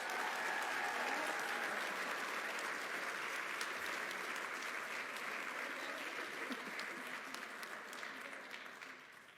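An awards ceremony crowd claps for top fundraisers, a steady, full round of applause that holds for several seconds and slowly tapers off.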